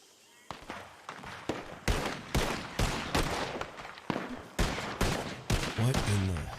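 Rapid bursts of gunfire in a roleplay video game, a string of loud sharp shots repeating irregularly in quick succession, close and punchy.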